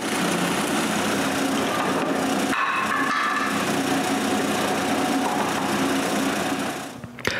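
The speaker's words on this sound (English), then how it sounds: "Then I drill the holes for the locking bolt." A drill boring holes for a locking bolt through wooden blocks, a continuous high whirring buzz that shifts pitch partway as the bit cuts, then winds down and stops near the end.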